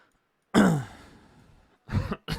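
Someone clears their throat once, close and loud, with a rough rasp that fades, followed by two short throaty sounds.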